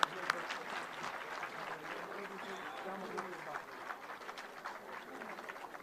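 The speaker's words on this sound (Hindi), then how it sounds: "तालियां एक बार जोरदार।" Crowd applause at a memorial birth-anniversary gathering for a politician, a sustained, even wash of clapping at moderate distance, with a sharp tap near the start.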